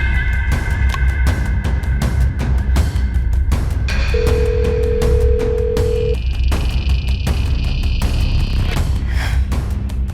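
A telephone goes unanswered: repeated ringback and electronic ring tones sound in sequence for several seconds, steady and fairly clear over a low background hum.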